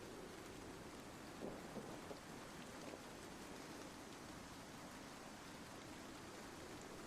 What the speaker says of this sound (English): It's just raining really hard out here